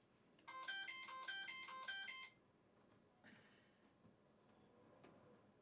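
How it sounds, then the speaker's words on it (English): Phone notification warning that the phone has lost its connection to an insulin pump: a quick run of bright, repeating electronic tones, faint and in the background, then low room noise with a few soft clicks. "notification that his phone is not talking to his insulin pump"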